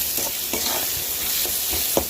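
Semolina and pineapple pieces frying in a pan for pineapple kesari, a steady sizzle with rhythmic scraping strokes of a spoon stirring about every half second, close and moderately loud.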